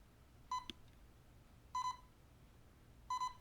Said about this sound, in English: Yeah, you guys, I know you guys hear that beeping.